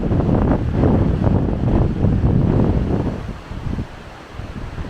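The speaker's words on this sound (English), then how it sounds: "that's the first look at the bay behind me, and it is a bit windy" Strong storm gusts buffet the microphone with low rumbling over a coastal bay, easing off toward the end, with faint surf in the background.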